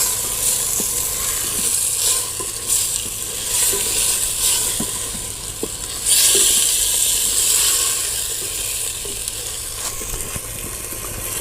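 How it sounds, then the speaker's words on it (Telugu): Chicken liver fries in a pan in a village kitchen while it is stirred with salt. A continuous loud sizzle and hiss runs throughout, marked by scattered clicks and scrapes from the stirring. "బాగా చికెన్ అంతా కలుపుకొని తగినంత సాల్ట్ వేసుకోవాలి ఫ్రెండ్స్"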